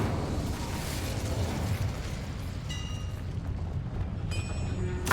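Incendio fire spell in Hogwarts Legacy, a steady loud roaring whoosh of flame that burns evenly for several seconds, with faint bright metallic chimes flickering over it, no voices.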